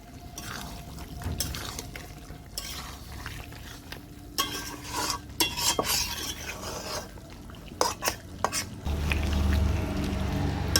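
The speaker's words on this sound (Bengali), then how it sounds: "ভালো করে নেড়ে চেড়ে নিলাম।" Fried spice powder is stirred into a thick curd chicken gravy in a pan, with repeated scraping spoon strokes and soft wet churning over a low sizzle that grows louder at the end.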